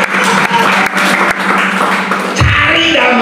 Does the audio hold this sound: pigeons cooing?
no